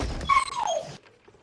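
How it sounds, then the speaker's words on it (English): A puppy lets out one high, drawn-out whimper that slides downward, preceded by a brief thump and ending abruptly in near silence. "Puppy!"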